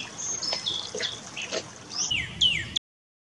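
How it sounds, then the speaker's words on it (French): Small birds sing in a spring garden under clear sunny skies, a few short high chirps and thin trilling whistles scattered over faint background noise, fairly quiet and without talk. "Écoutons le chant des oiseaux."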